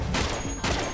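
A gunshot from the video game Uncharted, two loud, close bursts of gunfire in quick succession filling the short moment.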